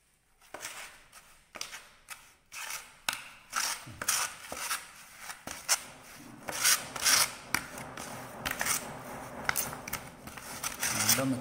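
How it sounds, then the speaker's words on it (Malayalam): Tile epoxy, with a black powder part added, is mixed using a putty blade, giving a quiet, close series of irregular scraping and rubbing strokes that grow denser and more continuous over time. "പുട്ടി ബ്ലേഡ് ഉപയോഗിച്ച് മിക്സ് ചെയ്യാം"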